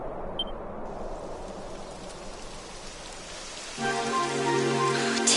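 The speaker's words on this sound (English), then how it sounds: "It would have to go and start raining, wouldn't it?" Rain begins falling in the video game Dragon Quest XI, a steady soft hiss of rainfall that swells louder toward the end as a musical tone enters.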